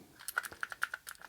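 A mechanical keyboard fitted to an Amiga 1200 computer is typed on in a quick, uneven run of crisp, close clacking keystrokes.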